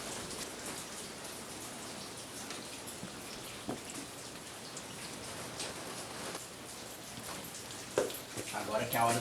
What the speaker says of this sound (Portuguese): Provavelmente vai estar um barulho estranho, cenas fortes, e tá até chovendo,